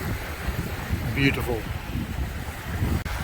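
Strong coastal wind buffets the microphone at the mouth of the Rubicon River, a steady broadband roar running the whole time, with a voice speaking briefly over it.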